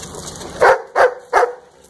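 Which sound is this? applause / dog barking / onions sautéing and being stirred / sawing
dog barking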